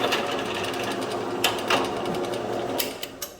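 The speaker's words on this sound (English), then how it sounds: "And just run the drill through it." A step drill runs through metal while working on ARP head studs for a Ford Barra engine, a steady buzzing whir with a few sharper grinding bursts as the bit bites, close and continuous.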